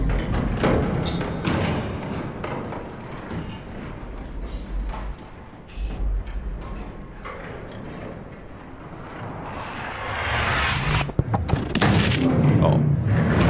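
Heavy cannon blasts boom and thud repeatedly in the puzzle-platformer Inside, with loud low-end impacts and rumbling debris across the stretch, building louder toward the end.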